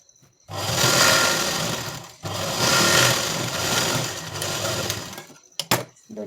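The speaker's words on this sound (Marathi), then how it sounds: "आता एकदम फिनिशिंगमध्ये येते हे. एकदम 5 इंचावरती मी टिप मारते." Sewing machine running loud and close while stitching the side seams of a four-tuck blouse, two sustained bursts of whirring separated by a brief pause, ending in a few short clicks.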